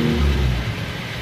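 An engine that has just had a new cylinder liner fitted runs roughly at idle, a loud, close and steady low rumble with an uneven texture and no one speaking over it.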